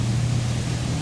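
Inside a Princess V48 motor yacht with IPS drives, a steady, low engine drone hums under broadband water and hull rush as the boat gathers speed.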